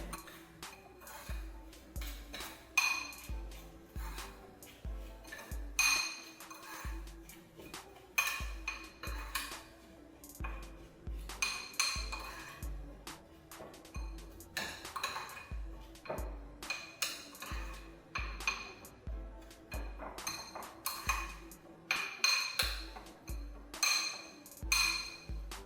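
A spoon scrapes and clinks against a bowl while melted butter is mixed into a no-bake strawberry cheesecake base, with steady, rhythmic, fairly quiet taps and knocks repeating throughout.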